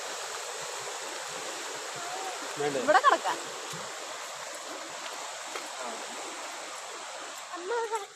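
A river flowing steadily nearby, a broad continuous rush of water running throughout, with a brief spoken exchange partway through and more voices near the end.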